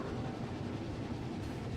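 A roller coaster train in the Planet Coaster 2 video game runs along its track while slowing, producing a steady, dense rumble with faint rhythmic clatter and no clear pauses.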